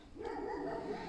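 A dog barks and whines steadily in a home garden, a fairly close, continuous rough vocalizing that lasts the whole moment with no pause.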